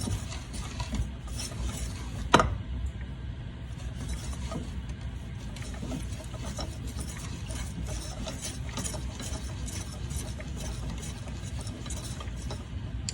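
Dry pudding ingredients and a pinch of salt stirred together in a pot, a continuous gritty scraping and rasping with one sharp knock early on, close and steady with no voice.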